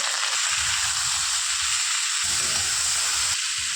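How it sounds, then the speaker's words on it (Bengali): Marinated Bombay duck fish coated in mustard paste fries in mustard oil, giving a loud, unbroken sizzling hiss with low bubbling pops underneath. "মোটামুটি ভাজা হয়ে গেছে মেখে রাখা মাছগুলো"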